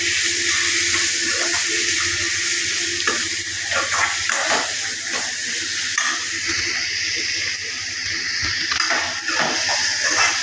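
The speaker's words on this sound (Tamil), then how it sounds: "புளி தண்ணியை ஊற்றிக்கலாம்." Tamarind water poured into a hot pan for a village fish curry, a loud continuous sizzle and hiss with occasional scraping of a utensil, steady throughout.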